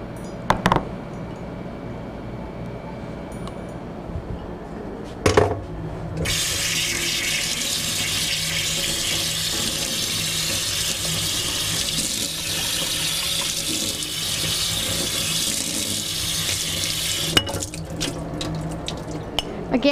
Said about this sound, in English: I'm going to put the daikon into the strainer and rinse it over cold water